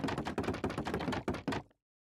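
Trapdoors being activated in Minecraft, giving a fast string of close clattering wooden clacks that run together densely for under two seconds and then stop abruptly into silence.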